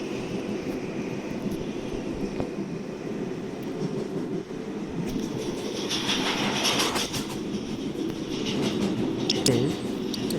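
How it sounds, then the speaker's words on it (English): An automated New York City subway train pulls into a terminal station with a steady, loud rumble heard from on board, and metallic hiss and squeal build in the second half. "I'm gonna have to move to the front of this train because I'm going to arrive at the terminal."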